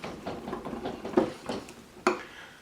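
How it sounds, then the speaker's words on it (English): A whisk clatters and scrapes against a bowl while blending a Baja-style sauce of onion powder, dill, salt and pepper, with soft rhythmic taps and a couple of sharper clinks near the end. "Switch out our whisk. Blend this all really well."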